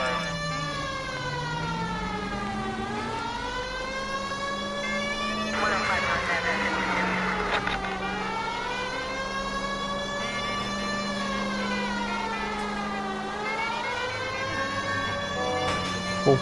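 A police car siren in the video game LA Noire wails in long rising and falling sweeps, loud and close, continuing steadily with a brief change in pattern partway through and no talk over it.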